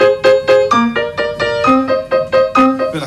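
Piano playing a polyrhythm exercise of one low note against three high notes, a clear repeating pattern of bright plucked tones at moderate pace, close and solo.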